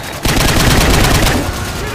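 Sustained rapid gunfire from the Call of Duty 4 War Pig mission, a dense loud burst of rounds starting abruptly after a brief lull and continuing steadily to the end.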